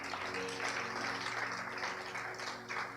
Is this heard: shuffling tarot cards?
no